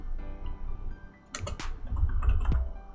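Typing a command on a computer keyboard: a quick run of close key clicks and taps over a low background hum, ending with a sharper keystroke, with no talk.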